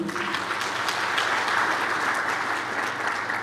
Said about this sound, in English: A round of applause once again.